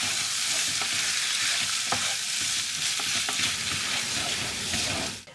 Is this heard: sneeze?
no